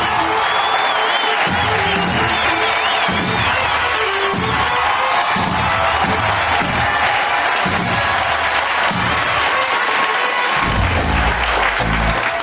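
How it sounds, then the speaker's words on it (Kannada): Studio audience applauding and cheering at a Kannada TV game show, loud sustained clapping with whoops and crowd noise throughout, rising in a burst near the end. "ಬರ್ಲಿ ಜೋರ ಚಪ್ಪಾಳೆ."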